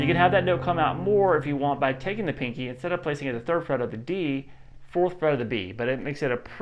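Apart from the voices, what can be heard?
No everyday noises stand out.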